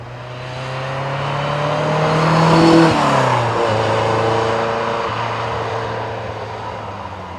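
A Ferrari 308 GTB's flat-plane crank engine hums steadily from inside, rising in pitch as it accelerates, then shifting gear and cruising at a smooth, even drone.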